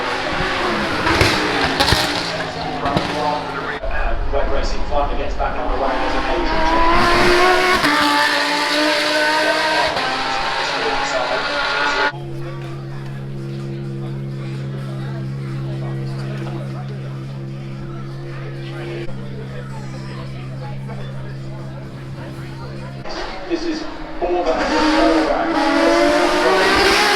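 A McLaren F1 GTR racing car on straight pipes at a festival of speed, its loud engine note rising and falling as it accelerates past, with a steady droning stretch in the middle and talking over the top.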